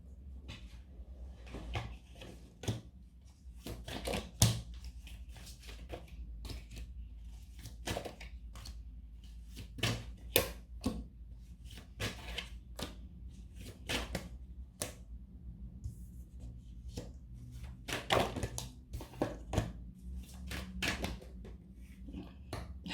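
Tarot cards being shuffled by hand, a long run of crisp, close taps and riffling clicks in uneven bursts over a soft low hum.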